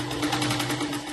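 A sewing machine hums and whirs continuously and close by as it stitches a blouse sleeve, with a steady, even drive throughout.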